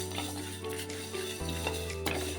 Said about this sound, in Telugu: ఇవి కూడా దోరగా వచ్చేలాగా వేపుకుందాం.